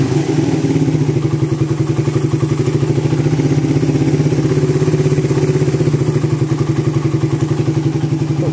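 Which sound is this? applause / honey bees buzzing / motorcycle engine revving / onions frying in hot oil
motorcycle engine revving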